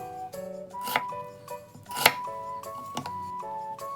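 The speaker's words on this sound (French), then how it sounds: "Coupez l'oignon grossièrement." A knife chops an onion coarsely on a cutting board for Korean army stew, giving a handful of sharp, close knocks at an uneven pace, with soft music playing underneath.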